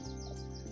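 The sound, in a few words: common blackbird and European robin singing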